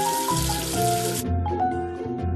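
Water runs to rinse soap off in a kids' education app game, a broad rushing hiss for the first second or so, then it cuts off, leaving cartoonish musical tones alone.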